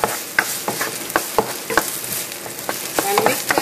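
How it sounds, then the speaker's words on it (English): Onion and chili stir frying in vegetable oil in a pan, a soft steady sizzle punctuated by rhythmic scrapes and taps of a spatula, close and fairly loud. "So we just stir fry the onion and also chili"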